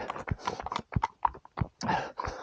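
A horse passed at close range by a runner outdoors, giving a run of sharp, uneven hoof-like knocks and thuds over a couple of seconds, fairly close and moderately loud, with no talking.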